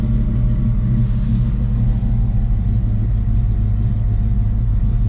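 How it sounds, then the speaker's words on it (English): A 1939 Chevrolet Master Deluxe engine idling steadily, a low, even rumble heard close and loud without change for the full length, with no voices. "It's a very nice sounding car."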